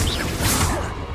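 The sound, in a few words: Confringo spell cast in video game Hogwarts Legacy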